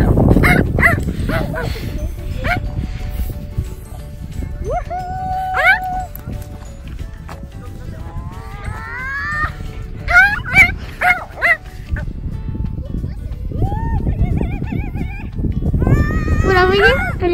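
A dog outdoors in fresh snow gives short yips, whimpers and a few barks scattered across the stretch, close by, while children and adults talk and shout excitedly over it.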